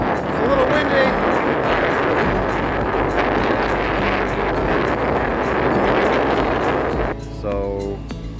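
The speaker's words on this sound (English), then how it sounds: "it's been very windy" Strong gusty wind buffets a microphone on the shore of a lake whipped into whitecaps. A steady, loud roar lasts most of the time before easing slightly at the end.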